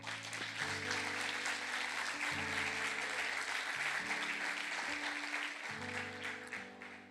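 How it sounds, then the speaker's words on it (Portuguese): A church congregation applauds during a worship service, sustained dense clapping over sustained low musical tones from instruments, continuous and fairly even in loudness. "Você pode aplaudir ao Senhor?"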